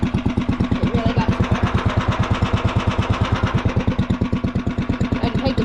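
Golf cart engine with its muffler removed, running loud and close with a fast, sharp, evenly spaced popping exhaust beat and no voices.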